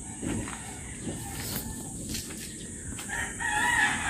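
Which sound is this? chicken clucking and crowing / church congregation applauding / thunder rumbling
chicken clucking and crowing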